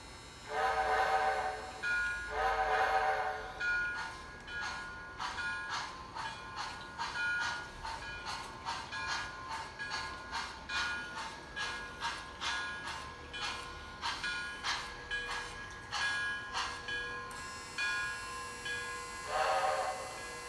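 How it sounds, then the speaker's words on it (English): Model Disney 4-4-0 American class locomotive running, its whistle sounding twice at the start and again near the end, with a steady rhythmic chuffing and track clatter in between, fairly close. "here comes our 4th locomotive"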